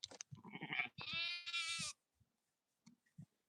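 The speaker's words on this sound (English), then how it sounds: "Is that your sheep?" Sheep bleating in a field, loud nearby with two long wavering bleats, followed by quiet shuffling and faint sounds.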